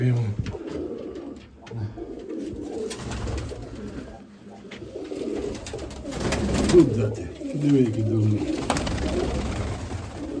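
Pigeons in a Mykolaiv breed loft coo in low, repeated rolling calls, near and fairly loud, broken by rustling and wing noise while someone talks intermittently over them.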